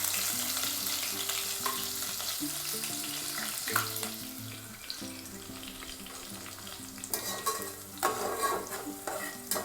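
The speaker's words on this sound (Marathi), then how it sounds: "चांगलं लाल होईपर्यंत फ्राय करायचं आहे." Finely chopped onion and crushed garlic fry in a pan for Divagar-style mutton sukka, with a steady close sizzle and stirring scrapes throughout and soft background music underneath.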